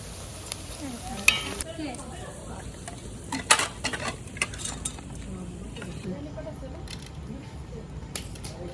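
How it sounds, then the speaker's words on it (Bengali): Taro (kochu) pieces fry in a pan, a continuous close sizzle with occasional clinks and scrapes of a utensil against the pan. "তো আমার প্রায় ভাজাও হয়ে গেছে আর এই লাস্ট খোলা আছে নামালেই হয়ে যাচ্ছে"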